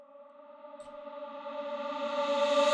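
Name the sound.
reversed reverb effect on a vocal track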